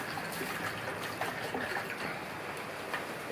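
Rice and water sloshing inside a lidded jar shaken vigorously by hand, a steady continuous wet rattle and splash with no pauses.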